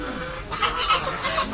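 Ducks at a lake squawk noisily in a short, loud burst of overlapping harsh calls, close by and with no talk over them.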